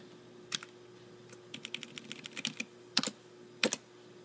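Keys on a computer keyboard are tapped in short irregular bursts, faint and close, with a quick flurry of keystrokes and a few sharper presses against a quiet hum.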